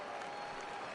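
A stadium crowd in the baseball video game MLB The Show 19 keeps up a faint, even murmur and applause during the bottom of the ninth.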